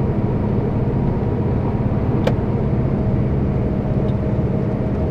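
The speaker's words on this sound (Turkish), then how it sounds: "hem egzoz freni hem motor freniyle" A heavy loaded truck rolls downhill on a mountain road with exhaust brake and engine brake engaged, giving a steady, loud, continuous low engine drone without pause.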